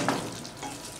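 Chopped potatoes tip into a frying pan of aloo matar saloni cooking over a low flame, giving a short burst of sizzling and rattling that settles into a steady fry, with no talking.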